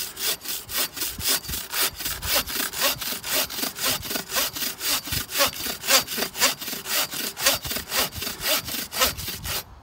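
A Bahco Ergo 24-inch bow saw cuts through a standing tree trunk in a steady, loud rhythm of about two and a half strokes per second, the rasping strokes clear and alone.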